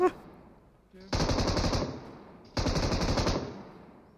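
Automatic gunfire in the video game PUBG Mobile comes as two loud, sustained rapid-fire bursts, each over a second long, with a brief gap between them and a faint sound just before the first.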